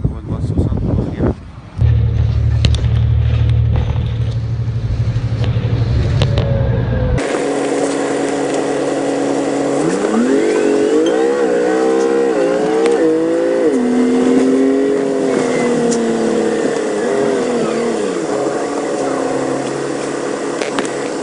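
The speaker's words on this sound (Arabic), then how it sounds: "هنا هذا هو الباص وصل واخيرا" A city bus pulls up at a snowy stop in Canada in about -16 degree cold, its engine rumbling loud and close with a rising, shifting drone over roughly fourteen seconds. Earlier, a voice talks over a low hum.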